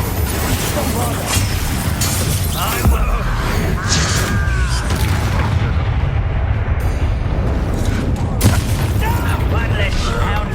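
Bombarda spell explosions in the video game Hogwarts Legacy, heavy booms and crackling blasts mixed with combat effects during a spell duel, with a character's voice speaking over the loud, busy fight.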